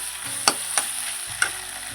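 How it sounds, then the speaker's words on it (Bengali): Okra, potato and poppy seeds cook in a pan with a faint steady sizzle, punctuated by three sharp clicks of a utensil striking the pan, close by and with no voices. "ভেন্ডি দিয়ে আলু দিয়ে পোস্ত দিয়ে রান্না হচ্ছে"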